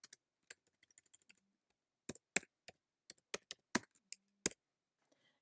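Fingers type on a computer keyboard in irregular clusters of sharp, close keystrokes, a few sparse taps at first, then a denser run of louder clicks with brief gaps between them.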